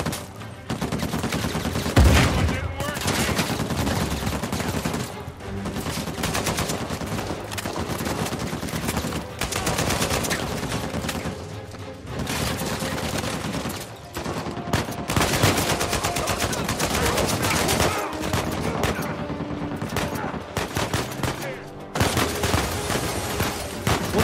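Heavy, continuous gunfire in the video game Uncharted 4, with dense overlapping bursts of automatic weapons and single shots from several directions, loud and nearly unbroken throughout.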